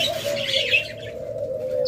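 Budgerigars, an albino red-eye and a rainbow bird, chirp in a steady close chatter of small tweets, with a stray coo-like call running through the short stretch.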